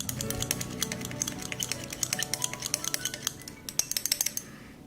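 Salt being stirred into water in a laboratory glass, giving quick, light clinks and taps of a stirrer against the glass in an irregular rapid run, close and fairly soft, with no talking.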